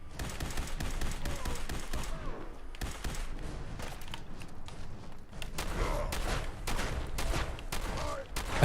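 Gunfire in Fallout 4 with the Sim Settlements 2 mod: repeated sharp shots and bursts crackle through a dense, busy battle mix, with scattered impacts and movement underneath and no pauses.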